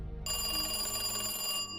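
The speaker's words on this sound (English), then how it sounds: "The family's phone rang." A landline family telephone rings with a bright, sustained electronic bell tone lasting about a second and a half, loud and close, following a low rumble at the start.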